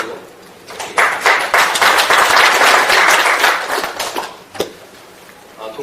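Seated attendees at a National Assembly seminar marking the 70th Liberation anniversary break into applause after a lawmaker's speech; the clapping swells abruptly, holds strong for about three seconds, then thins into scattered claps.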